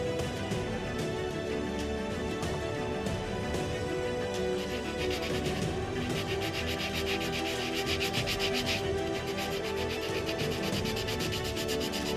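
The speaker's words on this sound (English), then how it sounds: "So I'm going to start by sanding it." Continuous rhythmic rubbing of sandpaper on wood, with strokes going back and forth close up and fairly steady.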